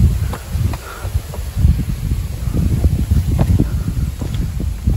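Strong wind buffets the microphone on a hill path of rock-built steps at Melukote, a continuous low gusty rumble with uneven surges and no talking.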